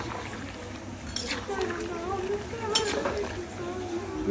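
Silver carp pieces, including the heads and belly cuts, fry in a pan with a continuous sizzle and occasional stirring scrapes, while someone talks close by.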